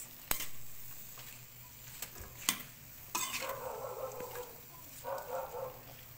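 Baguio beans dropped into a pan with a little oil, with scraping stirs, clinks of a utensil against the pan and a soft sizzle in between, close by and fairly quiet, without talking.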